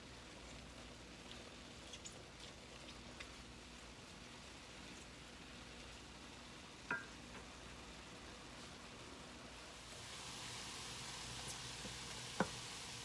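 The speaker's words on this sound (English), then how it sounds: "Now that I've got my ground beef almost done, I've been chopping I want to chop it up a little bit" Ground beef frying in a pan gives a steady, soft sizzle, with a couple of sharp taps as it is chopped up, quiet and without talking.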